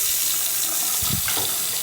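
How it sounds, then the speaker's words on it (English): Water runs steadily from a bathroom faucet into a sink, a loud, constant hiss of flowing water heard up close with no voices. "Okay, let's turn on some water."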